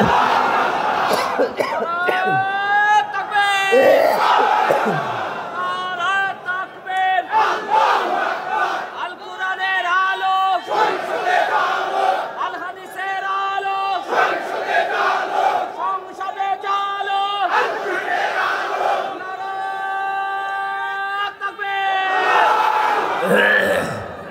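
A large crowd at a Bangla waz religious gathering shouts the takbir in loud, repeated unison chants, rising and falling in bursts over several seconds with brief pauses between calls.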